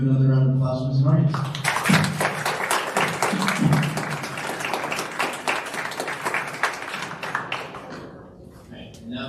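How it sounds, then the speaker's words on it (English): Audience clapping at a student leadership awards ceremony at Rhode Island College, a dense burst of applause that swells then gradually thins and fades, with a voice speaking over its start. "Let's give another round of applause for Ms."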